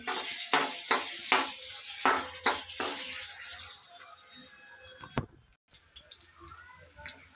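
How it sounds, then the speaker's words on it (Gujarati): Finely chopped potatoes hit hot oil in a pan, giving a series of loud sizzling bursts and stirring scrapes that fade to a quieter crackle with a few clicks. "આપણું તેલ ગરમ થઈ ગયું છે। હવે આપણે એમાં ઝીણા સમારેલા બટાકા એડ કરશું।"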